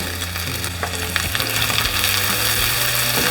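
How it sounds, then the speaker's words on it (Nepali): Ginger and garlic paste frying with browned onions in a pan, a loud continuous sizzle with occasional utensil taps and a low steady hum underneath. "अदुवा र लसुनलाई पनि प्याजमा भुटौँ।"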